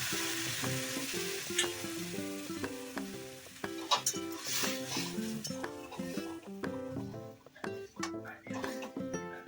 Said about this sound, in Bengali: তো এবারে আমি ডালটা এর মধ্যে দিয়ে দিচ্ছি। ডালটা তো আগে থেকে সেদ্ধ করাই ছিল।